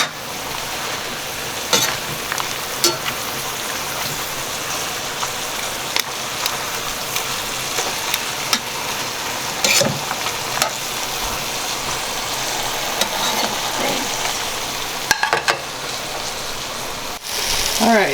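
Mole sauce with caldo simmers and reduces in a pan over raised heat, giving a steady rain-like hiss and bubbling with scattered louder pops and clinks.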